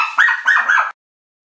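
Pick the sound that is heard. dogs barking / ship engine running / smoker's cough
dogs barking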